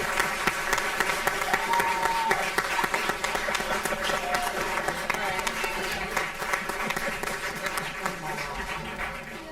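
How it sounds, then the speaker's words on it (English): A school board meeting crowd applauds Wilcox Rock students in a steady round of clapping that fills the room throughout, with voices and chatter mixed in underneath. "One more round of applause for all our Wilcox Rock students at home"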